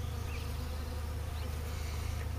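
Honeybees crowded at a small five-frame half hive hum in a dense, continuous drone, with individual buzzes rising and falling close by.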